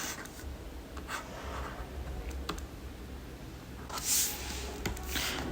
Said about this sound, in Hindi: तो इसको हम लोग लिखेंगे